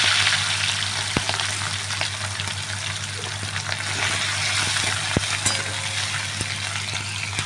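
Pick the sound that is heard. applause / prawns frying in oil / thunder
prawns frying in oil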